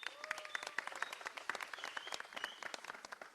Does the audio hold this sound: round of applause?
yes